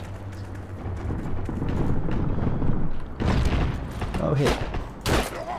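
Gunfire in the online shooter Heroes & Generals, a burst of distant shots cracking over a steady rumble of battle noise, with a brief exclamation from a player partway through.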